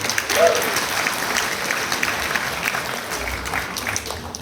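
Studio audience at a talk show breaks into applause, a dense, fairly loud burst of clapping that swells early and then tapers slightly, with a brief vocal whoop near the start.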